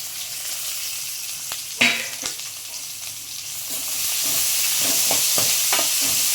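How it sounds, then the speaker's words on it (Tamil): Sliced big onions and curry leaves sizzle and fry in hot oil in a pan, a steady loud crackle throughout. The frying grows slightly stronger toward the end, with occasional sharper spatters as the pan is stirred. "எல்லாம் போட்டதுக்கப்புறம் நல்லா வதக்குங்க. கொஞ்சமாக உப்பு சேர்த்து வதக்குங்க."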